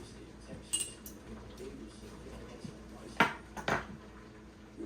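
Glass canning jars clink and knock against each other as they are grabbed for canning hot peppers, a few scattered bright chinks, the clearest two in quick succession, over a low room hum.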